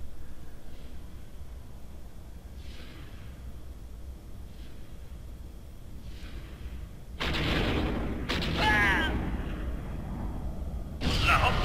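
Cannon fire from a small gunboat in the Empire at War space strategy game: faint distant shots recur every couple of seconds, then loud bursts of blasts and explosions crash in near the end.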